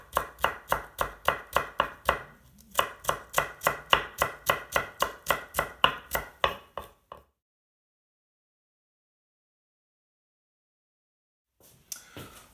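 Julienned vegetables being cut into brunoise dice with a knife on a board, a quick even run of sharp chops that pauses briefly, resumes, then stops for several seconds before a couple of soft knocks.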